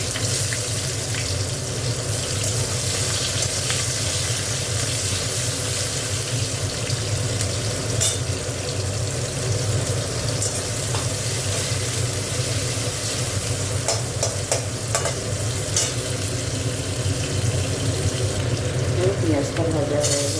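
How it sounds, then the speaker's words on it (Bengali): Onions frying in oil tempered with nigella seeds in a home kitchen, a steady close sizzle and crackle with stirring scrapes, and a voice speaks at times over it. "পেঁয়াজটা ভাজা হয়ে গেছে"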